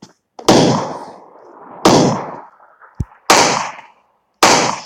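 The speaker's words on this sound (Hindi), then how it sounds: "शॉटगन से" Shotgun blasts in the battle royale game PUBG, four loud sharp booms a second or so apart, each with a short ringing decay, plus a smaller thud between them.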